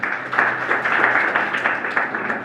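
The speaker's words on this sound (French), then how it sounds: "les applaudis aussi" An audience applauding at a youth forum speech, steady dense clapping from many hands that carries on through the whole moment.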